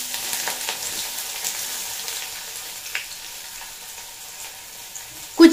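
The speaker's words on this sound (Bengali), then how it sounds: "তেল গরম হয়ে গেছে, এই সময় দিয়ে দিচ্ছি গোটা গরম মশলা, তেজপাতা, ঝিরি ঝিরি করে কুচিয়ে রাখা পেঁয়াজ" Whole garam masala, a bay leaf and thinly sliced onion fry in hot mustard oil with a steady, soft sizzle, ending in a sudden sharp clatter.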